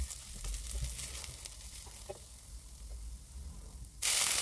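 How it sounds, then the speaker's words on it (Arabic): Garlic frying and being stirred in a pan, a quiet crackling sizzle with scraping stir sounds and low thumps, ending in a sudden loud hiss as something hits the hot oil. "بنقلبهم كويس قوي لحد ما التوم معانا ياخد اللون الذهبي الجميل"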